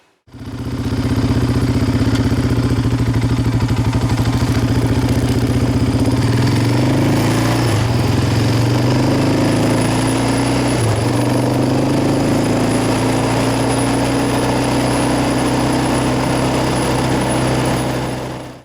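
A Yamaha Raptor 700R ATV engine runs loud and steady as the quad cruises along, holding a constant low drone with slight rises and dips in pitch and an even clattering mechanical roar throughout.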